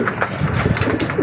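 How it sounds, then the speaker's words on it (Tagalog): Stock pigeons kept as pets coo in soft, repeated throaty calls, several overlapping close by in a short burst with no talking. "Yung mga ibang stock bird natin, hindi ko pa napapakain, mga kalapati."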